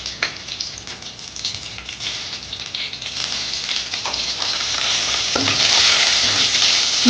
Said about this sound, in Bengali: এর মধ্যে আমি কালো জিরে ফোড়নটা দিলাম। কাঁচা লঙ্কা চেরা দিলাম।